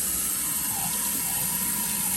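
Cold tap water runs steadily over broccoli sprouts in a sink, a continuous close hiss and splash with no voices.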